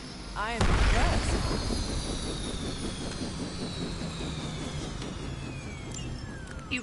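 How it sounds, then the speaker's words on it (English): A helicopter in the video game Midnight Suns, with loud whooshing rotor and engine noise that surges at the start and holds steady as a pulsing drone, a falling whine trailing off, with voices talking over it. "You've grounded the helicopter."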